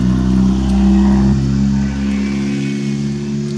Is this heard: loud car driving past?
yes